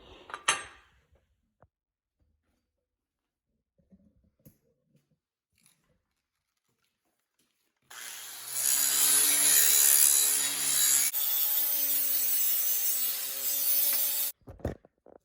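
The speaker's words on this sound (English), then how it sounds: "Just grinding the bevels so that when I weld it in, it's as strong as possible." An angle grinder grinds bevels on a high-carbon steel hatchet head, a loud close rasping roar that starts after a quiet stretch and runs for about six seconds before cutting off, with no talking.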